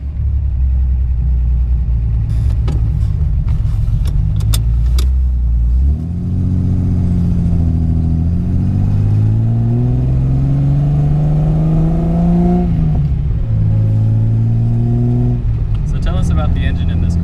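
A 1972 Datsun 240Z with a factory 2.4-liter inline six pulls away and drives, its engine note climbing through several loud gear pulls, with short pauses between shifts and a few voices heard.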